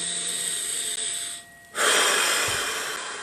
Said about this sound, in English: Clearing out those nasal passages.